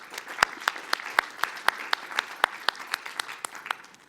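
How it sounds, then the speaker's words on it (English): Applause at a computing conference for a colleague, made of distinct, sharp claps at an irregular rhythm over a soft bed of scattered clapping, close and fairly small-sounding. "a warm applause also for her."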